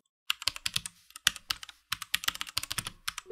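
Rapid clacky keystrokes on an unmodified Royal Kludge 84 mechanical keyboard, typed in quick bursts with a short pause, close and clear with no talking.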